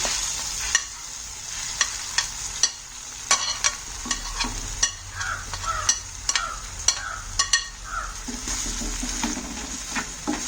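Green chilli thokku with tamarind is stirred in a pan: a spoon scrapes and taps at irregular intervals over a soft, steady sizzle, with no voices.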